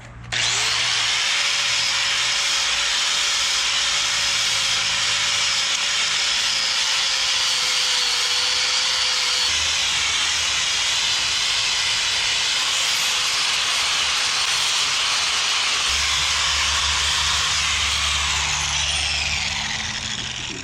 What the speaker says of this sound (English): clean this this tongue off and maybe file it down a little bit. It just fits in so tight. Okay, flapper disc.